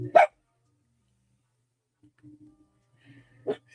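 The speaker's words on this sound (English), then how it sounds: "Let's see if Ritas wants to bark." A dog named Ritas gives two short, sharp barks, one at the start and one near the end, separated by near silence with faint low murmurs.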